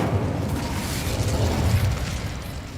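A low, roaring whoosh of magical fire from an Incendio spell in Hogwarts Legacy rumbles steadily for a few seconds, dense and bassy with no speech over it.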